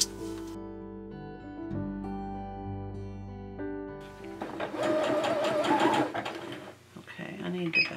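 A sewing machine stitches white fabric and lace in a rapid, steady mechanical whirr. It starts partway through after a soft tonal background, with short pauses and restarts.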